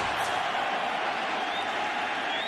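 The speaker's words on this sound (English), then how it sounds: "This crowd already in a frenzy here in Arizona" A packed football stadium crowd in Arizona at a Sunday night NFL game between the Colts and Cardinals roars in a steady, dense wall of cheering that holds loud and unbroken throughout.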